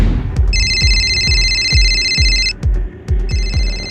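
A telephone rings in repeated bursts of bright electronic trilling, loud and close, over a steady background with rhythmic low thumps beneath.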